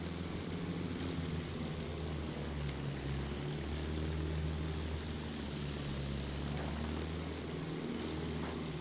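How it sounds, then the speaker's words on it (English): An enemy propeller plane in the Battlefield 1 video game flies over with a steady, loud droning engine roar that holds throughout, rising and falling slightly in pitch, with no talk. "Sighted! An enemy plane!"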